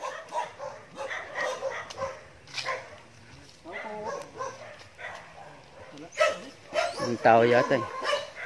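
A dog barks near a house during a visit, with a few sharp barks rising toward the end over ongoing conversation in Filipino.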